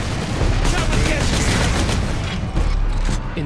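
Dense, continuous gunfire and explosions from the 2011 Warhammer 40K Space Marine video game, loud and sustained with bursts and booms throughout, with faint voices mixed in.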